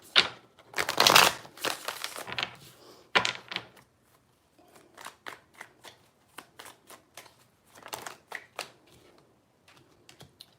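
Tarot cards being shuffled by hand, bursts of quick riffling and flicking at close range, with pauses between them and a few soft taps, fairly quiet with no talking.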